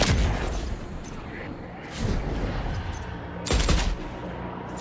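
Gunfire in the video game Death Stranding 2 crackles in dense rapid bursts, loud and close, with heavier blasts swelling around the middle and end of the stretch.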